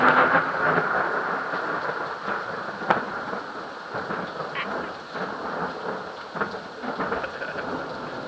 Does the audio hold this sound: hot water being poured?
no